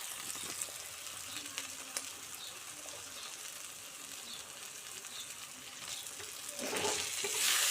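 Chicken masala sizzles and fries steadily in a pan, with a few stirring scrapes and a louder rush of sizzling near the end.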